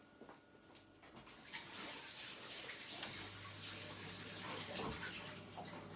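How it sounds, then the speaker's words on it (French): Hands are rinsed under running tap water after handling a buckwheat sourdough starter, a soft steady gush and splatter that builds after a quiet start, with a faint low hum underneath and no speech. "Je me passe les mains sous l'eau."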